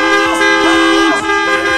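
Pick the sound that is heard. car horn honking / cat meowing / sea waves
car horn honking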